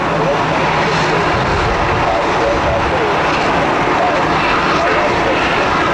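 An Alaska Airlines airliner taxiing at Columbus airport sends out a loud, continuous broadband engine roar and whine that fills the whole stretch, close by and unbroken.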